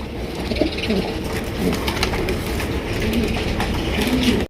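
Large red Indonesian Danish pigeons cooing steadily and close, with a low, rolling coo repeating over a continuous rumbling background hum.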